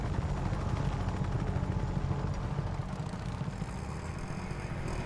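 A helicopter in the video game Just Cause 3 gives off a steady, loud rotor and engine rumble that fills the whole stretch without a break. Other vehicle engine noise is mixed in, and nobody speaks.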